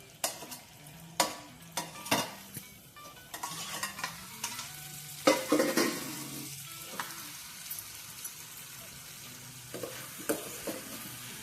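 Lauki and tomato pieces cook in a pan for South Indian chutney, a soft sizzle running beneath repeated close spoon stirs and scrapes against the pan.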